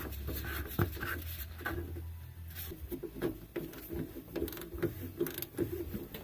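A fuel filter is screwed back into place on a Chevrolet Colorado ZR2 with the 2.8 Duramax diesel, heard as close, irregular ratcheting and threading clicks with scraping taps.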